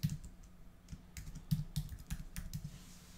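Someone types a new folder name on a computer keyboard while setting up Veeam Backup for AWS, a run of close, uneven key clicks with brief pauses and no talking.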